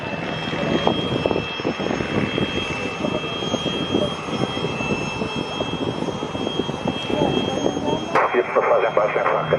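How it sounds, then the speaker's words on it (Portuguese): At an air show, an aircraft roars steadily past in a low knife-edge pass, its engine drone continuous and fairly loud beneath an announcer's running commentary. "Isso passagem baixa em faca."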